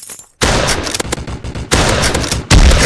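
Shotgun fire in a video game: loud, dense bursts of blasts in quick succession, broken by a short silence and then a heavy boom near the end, with no voices.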